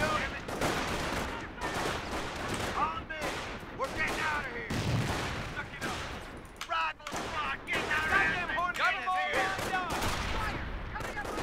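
Rapid gunfire in a World War II strategy game, shots and bursts crackling continuously over the whole stretch, mixed with shouted unit voices.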